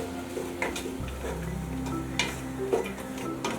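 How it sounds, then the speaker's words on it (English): Vegetables, including carrot, being stir-fried in a little oil for small chops, with a soft sizzle under irregular scrapes and taps of a utensil against the pan. Quiet and close. "So I'll continue to stir fry."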